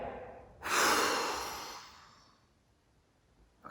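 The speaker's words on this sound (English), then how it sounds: "when you need to breathe out, breathe your breath all the way out." A single long, slow exhale during a children's yoga class, a close, breathy rush of air that starts abruptly, fades out gradually over about two seconds, and leaves quiet behind it.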